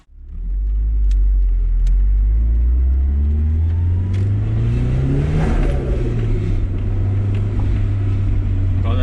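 Nissan 180SX with a T28 ball-bearing turbo drives off and accelerates, a loud close engine drone climbing in pitch through the revs, easing briefly at a shift, then rising again into a steady roar.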